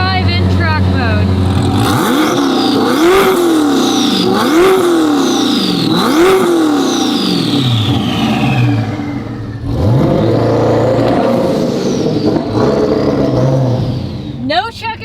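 A stock 2025 Corvette ZR1 with 1064 horsepower cold-starts and revs loudly up close. Several rising and falling rev sweeps are followed by a lumpy idle.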